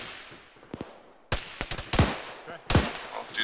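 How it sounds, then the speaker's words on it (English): Gunfire from a hillside in an Arma military game: sharp cracking shots, single and in short bursts, some distant and some louder and closer, with brief voices in between. "One's taking accurate fire from that hill."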